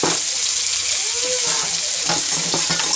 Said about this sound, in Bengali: কড়াতে তেল আছে তো ওটাতেই আমি এই যে মানে টমেটো আর আদা কুচি কুচি দিয়ে দিলাম